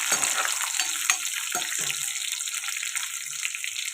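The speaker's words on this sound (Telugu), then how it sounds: "పెట్టుకున్న ఆనియన్స్, పచ్చిమిర్చి కూడా వేసేద్దాం. ఇది ఫ్రై చేసుకుందాం." Onions and green chillies frying in a pan for a bottle gourd dal, a soft steady sizzle with a few brief stirring scrapes near the start, close and uninterrupted by talk.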